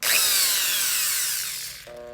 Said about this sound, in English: So I'm gonna turn this drill on.